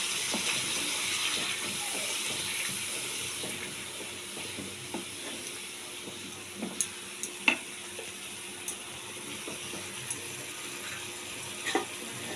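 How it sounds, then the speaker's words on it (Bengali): Spices fry over a full flame for paneer masala, giving a steady, even sizzle throughout. Scattered sharp clicks and taps come from stirring in the pan, and no one speaks. "মশলাটাকে আমি ফুল ফ্লেমে একটুখানি ভালো করে ভাজা ভাজা করে নেব"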